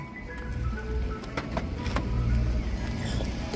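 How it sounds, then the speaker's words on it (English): A Mercedes engine idles steadily with a low rumble, accompanied by faint mechanical clicks and a hum from inside the vehicle. "Dude, do you hear this motor?"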